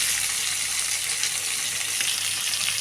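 Onions sizzle and fry steadily in hot oil with green chilies, ginger pieces and curry leaves, making poori curry; a continuous, fairly loud crackling hiss fills the whole stretch with no talk.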